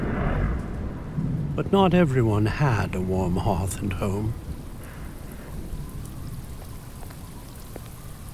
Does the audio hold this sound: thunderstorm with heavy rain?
yes